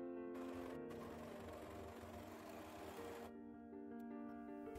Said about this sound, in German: Zum Zusammennähen wird hier die Overlockmaschine verwendet.